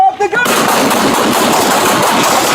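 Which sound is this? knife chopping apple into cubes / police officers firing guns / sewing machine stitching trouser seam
police officers firing guns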